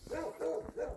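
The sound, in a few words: dog barking at passerby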